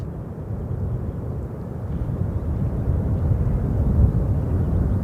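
An EasyJet airliner landing at London Gatwick Airport makes a loud, steady low roar of jet engines that swells slightly toward the end, with no voices over it.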